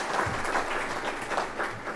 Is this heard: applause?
yes